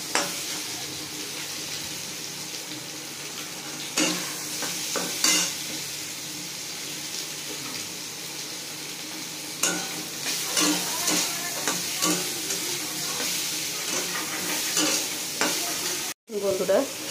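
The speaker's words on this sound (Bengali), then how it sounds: "আর এই করে মাছ ভাজা হচ্ছে" Fish frying in a pan for a fish curry, a steady close sizzle with scraping stirs and clinks of a utensil against the pan, running alone without talk.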